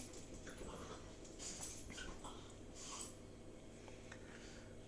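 Several dogs play somewhere behind during an outdoor metal-detecting outing in the UK, giving faint, distant whimpers and small yips over steady wind and field noise.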